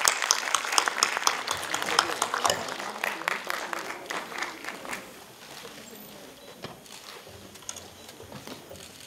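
An auditorium audience at a Constitution Day ceremony applauds with loud, dense clapping that gradually thins and fades toward the end, with some background voices.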